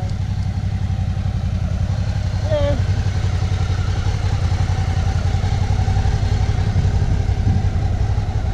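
Motorcycles idle and rumble steadily in a motorbike parking area at the Rockabilly Blowout 2017 event. The engine noise is continuous and close, with people talking over it.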